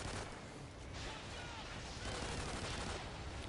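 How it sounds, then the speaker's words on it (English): Pistol gunfire in the video game Extinction sounds as a dense, continuous crackle of shots, faint and steady for the whole stretch. "Alright, let's use our pistol."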